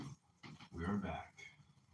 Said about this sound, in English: For some reason, the dog wanted to stop playing there.